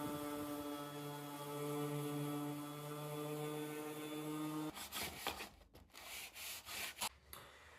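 Hand sanding of wooden bed frame legs for a castle joint bed, heard as several rough, uneven rubbing strokes near the end after a long steady droning hum, fairly close and moderately loud.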